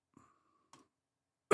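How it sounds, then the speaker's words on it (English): A person in a home studio coughs once, a short, close, moderately loud burst at the very end, after two faint clicks in an otherwise quiet room. "Excuse my coughing and stuff."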